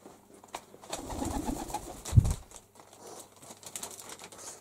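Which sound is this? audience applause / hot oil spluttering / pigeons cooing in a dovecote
pigeons cooing in a dovecote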